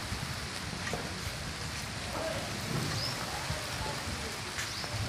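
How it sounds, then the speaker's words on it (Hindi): Rain falling steadily in a village during a stormy downpour, a broad continuous hiss close by and fairly loud throughout, with faint occasional sounds in the background. "तो अभी बारिश आ गई है"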